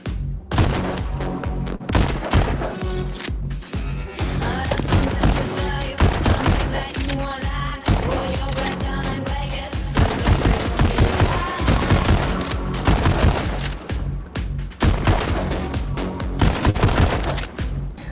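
Rapid volleys of gunfire from a VR shooting game on an Oculus Quest 2 keep crackling in dense bursts and scattered single shots throughout, loud and sustained with no talk.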